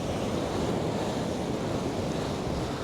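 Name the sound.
wind and surf on a beach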